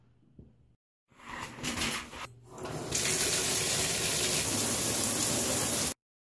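Water runs from a tap or shower during hair washing: after brief handling noises and a pause, a steady, loud broadband hiss of flowing water holds for about three seconds and cuts off abruptly.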